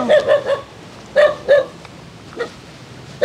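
A dog barks at a rural family home in Antique after a storm, several sharp barks in quick clusters with pauses between, close and loud.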